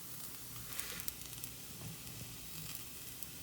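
A sooji cheela steadily sizzles in a pan as it cooks, with a constant bright hiss and faint pops and crackles, close and fairly quiet, with no voices.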